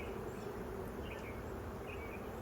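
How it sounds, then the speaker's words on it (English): Honeybees swarming over a hive frame during a hive inspection, a dense, continuous buzzing drone at close range, steady and even throughout with no talking. "You can even like shake the bees off."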